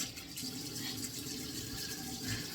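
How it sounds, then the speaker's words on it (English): Hands rinsed under a running sink tap during a morning skincare routine, a steady close gush of water splashing continuously with small shifts as the hands move through the stream. "Rinse my hands off."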